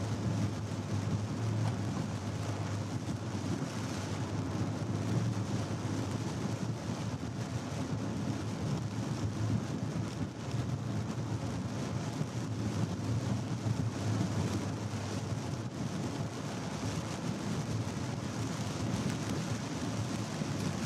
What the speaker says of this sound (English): It is still raining, of course.